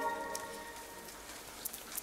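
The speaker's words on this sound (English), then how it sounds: "the rain is also very pretty" Rain falls in the video game Ender Lilies, a soft continuous patter with a faint hiss, steady and calm with a few sharper drops near the end.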